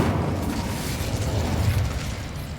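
A fire spell bursts in the video game Hogwarts Legacy, giving a loud, sustained, rumbling whoosh of flame that holds steady for a few seconds with no break.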